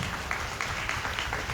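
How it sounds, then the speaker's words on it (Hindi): A church congregation claps hands in thanks to the Lord, a brief burst of steady rhythmic clapping with faint voices underneath. "ताली बजा के प्रभु को धन्यवाद दें।"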